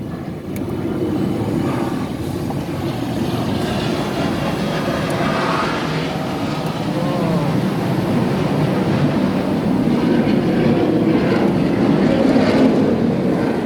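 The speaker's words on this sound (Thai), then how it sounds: "เสียงเครื่องบิน" An airplane flying overhead gives a loud, continuous low roar that builds slightly and holds for the whole stretch, with no voices.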